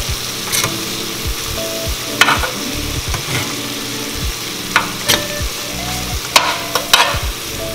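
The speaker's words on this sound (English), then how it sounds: "our shrimp is in here sauteing" Shrimp sautéing for a seafood muffaletta pasta: a steady, close sizzle runs throughout, broken by occasional stirring scrapes and louder spits.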